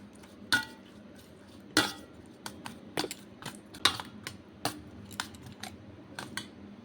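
Egg and salt being mixed in a bowl for an egg Maggi paratha, heard as sparse, sharp clicks and taps of a utensil against the bowl, irregular and fairly close, with no talking.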